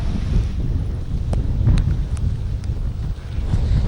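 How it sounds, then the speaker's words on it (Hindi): Strong wind from Cyclone Nisarga blasts across the coast at Versova, Mumbai, in a steady, loud roar that buffets the microphone, with a few faint higher clicks over it. "यहाँ पर काफी तेज हवा चल रही है।"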